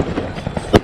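Fireworks are set off outdoors, with a series of soft pops ending in one loud sharp bang near the end, heard alone without talk.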